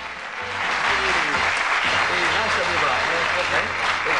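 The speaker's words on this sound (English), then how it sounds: "Give a nice warm round of applause to a Lancastrian, Mr. Billy Lennard." Sustained television game show studio audience applause, dense and steady from start to finish, with a voice speaking over it.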